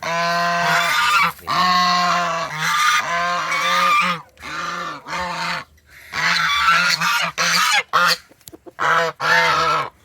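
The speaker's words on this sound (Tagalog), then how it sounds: "So ayun lang yung ating gansa." Loud, repeated goose honks in bursts, with several birds calling close by, pausing briefly between clusters of harsh nasal calls.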